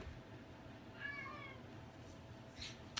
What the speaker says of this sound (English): It's my cat, you know,